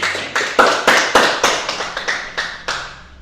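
Students in a classroom clap together in a steady, rhythmic beat, about a dozen crisp, close claps in unison that gradually soften toward the end.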